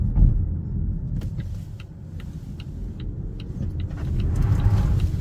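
Single-motor, rear-wheel-drive 250 hp Volvo C40 Recharge electric car accelerating hard, a steady low road rumble and tyre roar that builds toward the end, with faint ticking clicks scattered over it and no talk.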